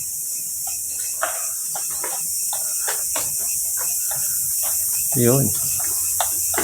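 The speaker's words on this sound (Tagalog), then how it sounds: "Bisit na tipaklong na yan, lakas makagulat eh." Grasshopper chirps in an abandoned morgue, a steady insect trill running through the clip with one louder, rasping burst near the end, and a brief voice heard once.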